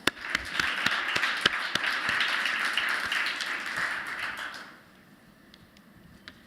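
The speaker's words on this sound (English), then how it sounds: "So let's give one final round of applause to our jury." An event audience at an affordable housing gathering applauds the jury with scattered, moderate clapping that holds steady for several seconds, then fades to a few isolated claps.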